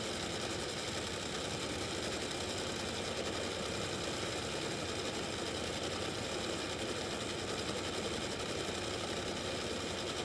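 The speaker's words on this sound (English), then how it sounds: "Lex June, they've got that thing idling over there and taking a little extra time." A race car engine idles at a qualifying event, a steady, moderately faint mechanical hum with a low rumble, continuous and unchanging, with no voices over it.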